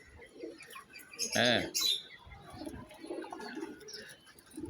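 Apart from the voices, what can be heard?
pigeons cooing on a rooftop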